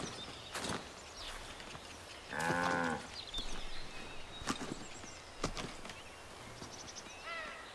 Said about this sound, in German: Kühe, wir sind richtig.